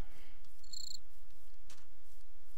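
Crickets in a Minecraft modpack chirp steadily in a dense, continuous trill, with a couple of brighter high chirps standing out briefly, with no voices over them.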